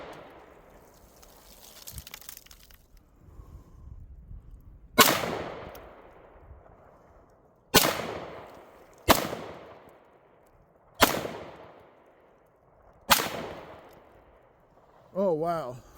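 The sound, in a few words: Canik TP9SF pistol being fired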